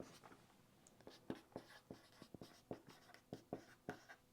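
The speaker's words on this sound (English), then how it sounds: "I'm just going to write it out first." Pen writing on paper, faint and close, with a quick irregular run of scratchy strokes and taps that carries on for several seconds with no voices.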